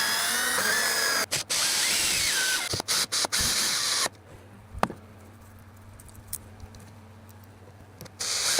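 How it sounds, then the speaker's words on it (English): A power drill drives a screw through a clamp into a wooden jig, whirring loudly in bursts with brief stops for about four seconds, followed by quieter handling knocks and a short final whir. "I think I'm going to screw the clamp in first and then see whether that moves when I clamp it"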